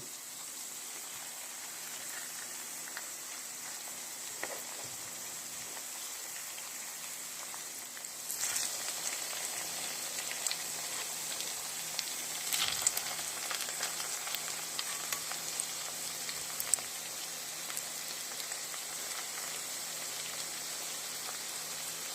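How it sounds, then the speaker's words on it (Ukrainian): Pumpkin potato pancakes sizzle steadily in a frying pan over medium heat, a soft crackling hiss that grows busier partway through, with occasional pops. "Подивіться, як вони це дуже гарно смажать на такому середньому вогні."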